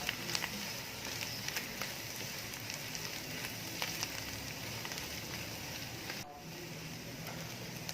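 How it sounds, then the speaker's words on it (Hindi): Onion, ginger and garlic frying with cumin in oil, a faint, even crackling sizzle that holds steady throughout with small scattered pops. "फ्यू सेकंड्स के लिए प्याज और अदरक लहसुन के साथ इसे फ्राई कर लें।"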